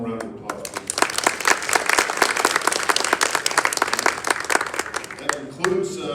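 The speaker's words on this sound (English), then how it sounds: "So we'll give them one more round of applause, please." An evening facility gathering gives the staff a round of applause, with many distinct hand claps crackling close and lively as the clapping thins and fades near the end.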